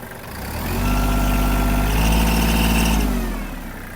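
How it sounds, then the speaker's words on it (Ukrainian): A Kubota GL-201 tractor's 1.4-litre diesel engine idles close by with a deep, steady rumble that swells and then settles, running alone without any talk. "глушиться трактор перекриттям подачі палива"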